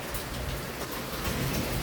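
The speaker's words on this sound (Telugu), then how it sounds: "వాన చూశారు కదా, దారుణంగా వస్తుంది." Heavy rain pours down in a dense, steady roar that fills the space, loud and close with no break and no voices.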